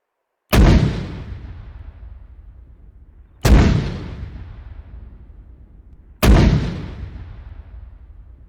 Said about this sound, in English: Big old guns.